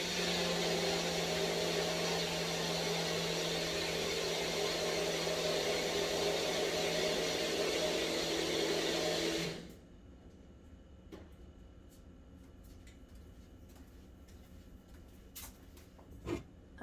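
A vintage infomercial-style magic blender cup whirs loudly and steadily, blending egg and butter into a cup of coffee, then cuts off abruptly, leaving quiet room sound with a few small clicks and taps.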